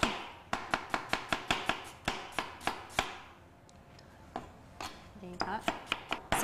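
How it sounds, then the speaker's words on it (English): A knife chops onions across the grain on a board: a fast run of crisp, evenly spaced strikes, a short pause, then another quicker burst of close, sharp chops. "Cutting up the onions, we take the core out."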